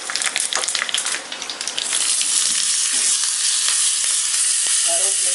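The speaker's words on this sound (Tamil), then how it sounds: "பொரிஞ்சோடனே கருவேப்பிலை ஆட் பண்ணி" Steady loud sizzling of onion and curry leaves frying in hot oil, with a busier crackling burst at the start that settles into a continuous hiss.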